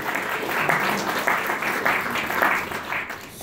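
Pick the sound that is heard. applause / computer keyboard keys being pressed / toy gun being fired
applause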